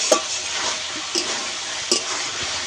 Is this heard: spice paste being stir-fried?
yes